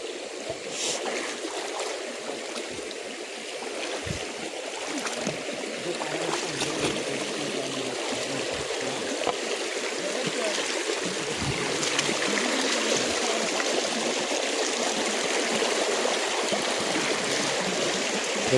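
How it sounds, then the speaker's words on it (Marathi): Stream water rushes strongly in a steady, dense roar at night, close and continuous throughout, with no voices over it. "पाणी खूप जोरात वाहत आहे"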